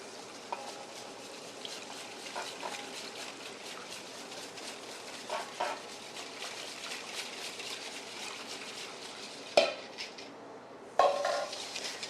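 Whisking milk into cornbread batter in a bowl, a steady run of soft clinks and scrapes with a few sharper knocks near the end, close and fairly quiet, no talking.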